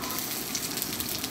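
Garlic sizzling in hot mustard oil, a close, steady crackling hiss with no talk over it.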